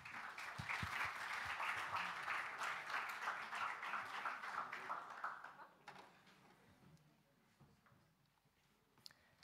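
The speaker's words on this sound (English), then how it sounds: "round of applause." Enthusiastic audience applause greets the Estonia team taking the stage at the Europe Enterprise Challenge final; dense, loud clapping lasts about six seconds, then fades to a sparse room murmur.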